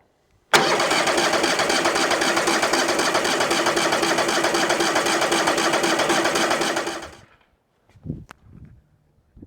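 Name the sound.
sawmill engine cranking over, not starting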